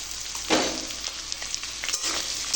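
Taro stolons (kochur loti) go into oil with browned onion, chilli and garlic. A sharp burst of sizzle comes as they hit the pan, then a steady crackling fry with light stirring scrapes.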